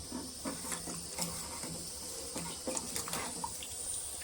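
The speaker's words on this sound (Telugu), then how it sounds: "ఈ వాటర్ కూడా ఇందులో పోసేసుకుంటాం" Water splashes and trickles into a pot of cooking dal for sambar, a steady close wash with a few small knocks.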